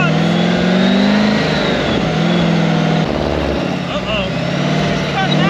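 A mid-engine V8 in a Taylor-Dunn 4x4 runs loud and close, its rumble holding steady with slight rises in pitch throughout, while voices talk over it.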